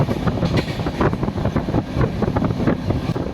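The Darjeeling Mail rolls along on its run toward New Jalpaiguri, a continuous rumbling clatter from inside the sleeper class carriage with rhythmic rail knocks and wind rush. It stays loud and steady throughout, with no voices.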